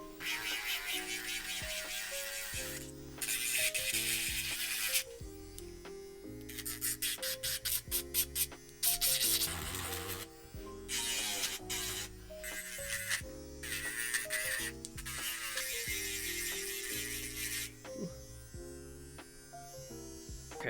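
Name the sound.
filing acrylic nails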